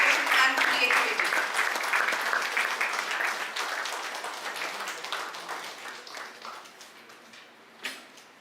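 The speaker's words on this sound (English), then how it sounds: "Let us give a big round of applause as we officially inaugurate Samanvay" An audience applauds at the inauguration of the Samanvay event. The clapping is loud at first, then thins into scattered individual claps and fades near the end, with a last few claps.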